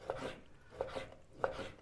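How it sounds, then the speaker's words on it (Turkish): A knife chopping lamb tail fat on a cutting board: three sharp chops spaced about a second apart, each followed by a softer tap, fairly quiet and close. "Küçük küçük kuyruk yağını doğruyorum."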